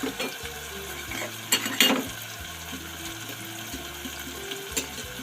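Spice powders fry and sizzle steadily in oil for an egg masala curry, with scraping strokes of a stirring spoon against the pan, close and continuous, with no talking.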